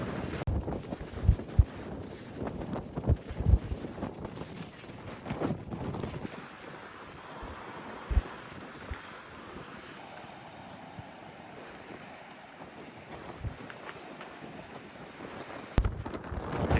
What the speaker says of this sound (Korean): 진짜 바람이 장난 아니게 부는데